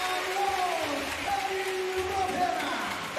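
A crowd at a basketball game in a Japanese B.League arena applauds and cheers after a basket, steady and moderately loud under a commentator's talk.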